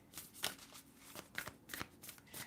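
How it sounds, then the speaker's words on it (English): A new oracle card deck is shuffled by hand in quick, crisp riffling bursts, close and fairly quiet, with no talking over it. "I'm giving it a good shuffle because this is a new oracle deck"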